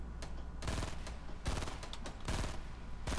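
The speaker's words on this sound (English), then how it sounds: "He's shooting at me, missing almost every shot." Enemy gunfire in Fortnite Battle Royale, several rapid bursts of shots at moderate distance, each burst separated by short pauses, with no talking over them.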